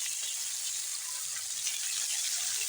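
Green chillies, tomatoes and green onion frying in a little oil in a pan, a soft steady hiss of sizzling that holds evenly throughout, faint and without voices.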